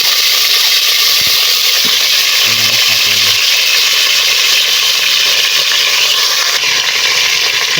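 Meat for tinola hits a hot pot with a loud, steady hiss and sizzle that fills the whole stretch, with a few brief knocks of stirring partway through.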